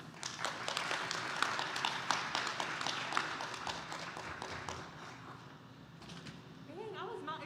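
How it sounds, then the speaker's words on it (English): A room of guests at a recognition dinner claps for an award winner, a scattered round of moderate, fairly close applause that thins out toward the end. "Please help me congratulate her by giving her a round of applause"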